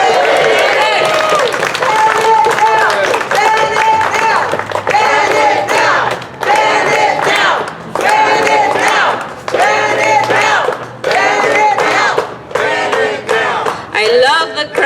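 Crowd at an outdoor environmental justice rally cheering and clapping in repeated loud bursts with short pauses between them, chanting voices mixed into the noise.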